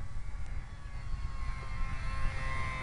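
A stock-motor RC model plane, a T-28 running on a Sky Lipo 250 battery, gives a steady whining electric-motor drone with propeller noise and broad rumbling wind, continuous and fairly distant.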